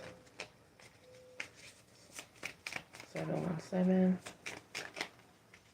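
A deck of oracle cards being shuffled, with quick riffling bursts and soft flicks at close range, and someone speaking over and between the shuffles.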